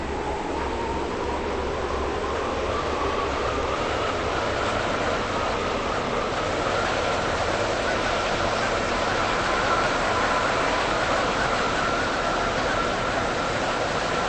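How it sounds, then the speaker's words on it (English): Train running on the Waterline in the Roblox game Stepford County Railway during a late-night ride, a steady droning rumble with a faint rising tone, continuous and unbroken throughout. "Welcome on board this Waterline service to Benton."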